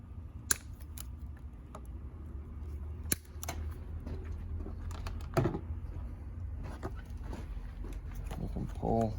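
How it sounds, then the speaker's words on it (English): Zip ties are snipped off a Can-Am wire harness: a few sharp, isolated clicks and cuts spaced several seconds apart over quiet room noise, ending in a short rattling burst, with someone talking softly at times. "I'm gonna snip the zip ties that are around"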